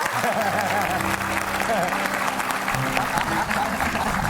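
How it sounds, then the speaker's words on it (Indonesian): A studio audience at a TV talk show claps loudly and continuously, with voices speaking over the applause. "Tepuk tangan buat saya."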